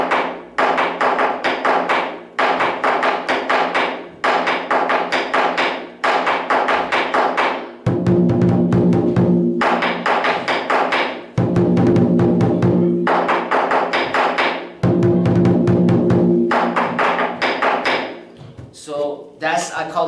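A Chinese lion drum plays the Hidden Dragon rhythm at the sides, giving a loud, steady run of rapid strokes. Deeper, heavier sections come and go between stretches of lighter, sharper hits, and no one speaks.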